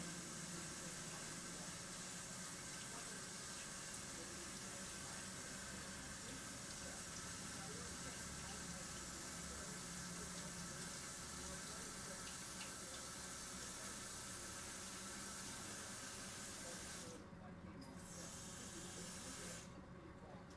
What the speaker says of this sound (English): Sorry, I'm waiting on the water to get hot.